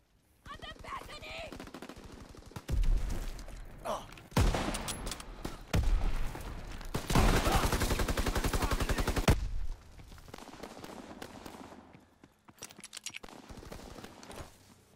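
Video game gunfire in a team deathmatch, rapid automatic bursts fired through a wall, a few heavy volleys with short pauses between them, dense and close, with faint game sounds around them.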